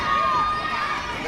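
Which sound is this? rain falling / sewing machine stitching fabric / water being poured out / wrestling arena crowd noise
wrestling arena crowd noise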